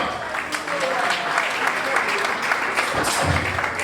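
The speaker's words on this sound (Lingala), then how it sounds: "je demande à tous les mariés qui sont présents de pouvoir applaudir pour eux-mêmes" Guests at a wedding celebration applaud in a sustained, fairly loud patter of many hands, while a voice talks over the clapping through much of it.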